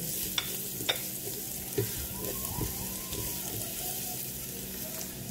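Garlic sautéing in a pan for Filipino pork steak, a continuous close sizzle with occasional sharp clicks and scrapes of stirring.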